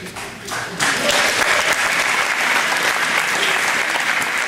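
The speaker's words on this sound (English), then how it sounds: "they're clapping. Well, I didn't finish. After a good applause, it's time to sit down." Audience at a 2010 mayoral candidate forum breaks into loud, steady applause for a candidate, building quickly after a brief lead-in and holding at full strength throughout.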